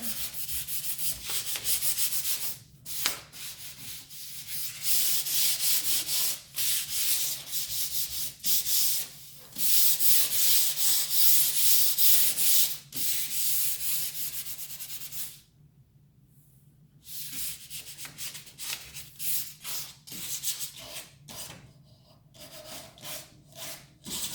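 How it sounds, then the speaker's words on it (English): Primer on painted furniture is sanded by hand, with close, raspy rubbing strokes that come in repeated bursts, briefly stopping and then resuming at an uneven rhythm. "I'm just gonna kind of sand that down"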